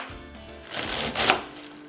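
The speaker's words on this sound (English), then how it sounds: "we're just gonna slice that up" A knife cuts thin slices of food for a keto Reuben slaw, with a short soft scraping stroke and a crisp slicing sound near the end, close and quiet.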